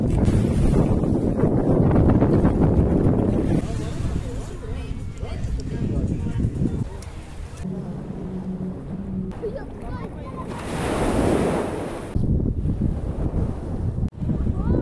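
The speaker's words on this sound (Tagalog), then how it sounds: "nandito naman tayo sa beach" Wind and surf on a beach in Dubai, a steady rush of gusts and breaking waves with wind buffeting the microphone, a louder surge of wash near the end, while someone talks over it much of the time.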